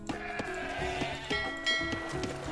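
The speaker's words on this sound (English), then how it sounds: "We've only got the one sheep" Sheep bleating in a historical strategy video game set in the year 1000, a short bleat over steady game music and ambience.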